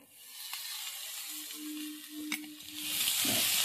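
Drumstick (moringa) pulp tips into half-fried onions in a pan, setting off a steady close sizzle that swells louder toward the end, with a brief stirring knock midway.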